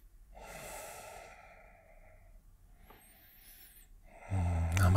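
Breathing during a seated yoga twist, with a clear inhale and exhale near the start, softer breaths after it and a louder burst of noise at the end, close and with no talking.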